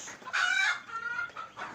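Chickens on a small poultry farm cluck and squawk in a few loud, close bursts, with an agitated cackle rising in the middle and shorter calls trailing after.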